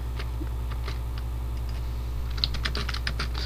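Someone types on a new computer keyboard, its keys clacking in scattered taps that pick up into a faster, louder burst toward the end, close by over a steady low hum, with no talk.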